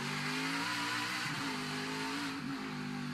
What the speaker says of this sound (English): Jamie on the rev limiter right there, downshift through turn 3.